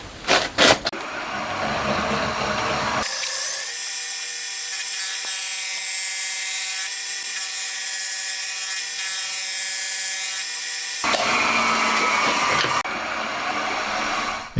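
Lathe or mill taking a thin cut on a handmade connecting rod bearing shell for a 125cc four-cylinder 16-valve engine, a sustained whining cut with clicks and handling noises before and after.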